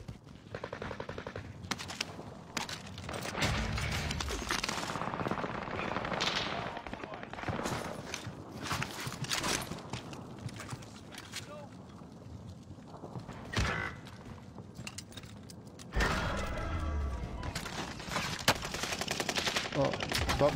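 Rapid automatic gunfire and scattered shots from a GTA roleplay game, in dense bursts throughout with mechanical clatter, with faint talk underneath.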